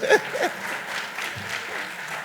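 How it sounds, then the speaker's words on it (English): Conference audience at an investment summit applauds a speaker, a sustained even wash of many hands clapping, with a brief voice at the very start. "A round of applause once again for Dr. Bassi for that impeccable delivery"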